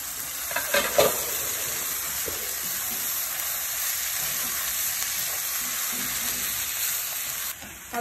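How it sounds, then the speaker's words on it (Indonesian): Young papaya sautéing in a pan with coarsely ground spices: a loud, continuous close sizzle with a few clattering stirs near the start and a brief dip toward the end. "Saya masukkan papaya muda yang sudah dicuci bersih."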